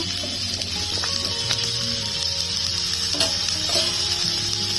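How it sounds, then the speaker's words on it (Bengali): Pumpkin, carrot, taro, eggplant and potato pieces sizzle together in hot oil in a pan for a vegetarian mixed-vegetable chhokka, a steady close frying hiss with occasional stirring scrapes. "একসাথে ভালো করে ভেজে নেব।"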